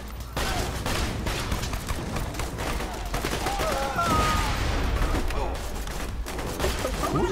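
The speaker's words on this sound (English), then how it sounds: "Who's shooting at me?" Gunfire in the video game Borderlands: rapid, continuous volleys of shots crackle at steady loudness throughout, with a player's voice faintly mixed in beneath the shooting.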